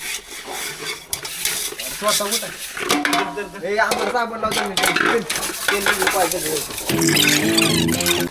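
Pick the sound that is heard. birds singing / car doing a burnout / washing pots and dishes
washing pots and dishes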